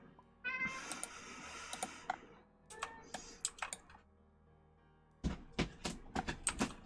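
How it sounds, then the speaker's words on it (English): A cat meows several times in a row, fairly close and clear, while fast clicking keyboard typing keeps going underneath and carries on alone after the calls stop. "Cat."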